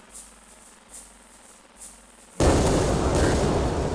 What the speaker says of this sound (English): Shooting fireballs